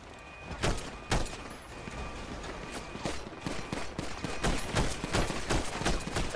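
Rapid bursts of gunfire in a GTA roleplay video game, with repeated sharp shots through a gang shootout during a meth run, loud and close with fast irregular volleys.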